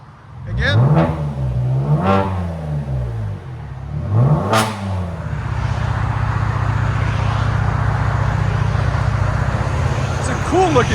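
A 2019 Kia Stinger GT with a 3.3L twin-turbo V6 and aftermarket resonators revs hard three times, each loud rise and fall close by, then settles into a sustained drone. People talk over it.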